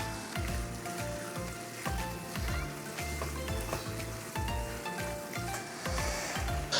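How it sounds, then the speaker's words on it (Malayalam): Chicken egg roast made with unlaid chicken eggs sizzles and fries in a pan while being stirred, a dense close crackle with rhythmic scraping strokes and no voices. "ഒന്ന് ഇളക്കി കൊടുക്കുക."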